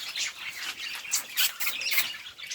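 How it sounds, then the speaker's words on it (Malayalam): Birds chirping and squawking on a large Kerala farm homestay where peacocks roam, a dense, busy chorus of high calls rising and falling throughout, fairly close and steady, with no talking. "ഇവിടെ വന്നിട്ടുണ്ടെങ്കിൽ നിങ്ങൾക്ക് കിളികളുടെ ഒക്കെ സൗണ്ട് കേൾക്കാം."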